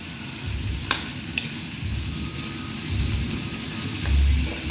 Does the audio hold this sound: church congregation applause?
no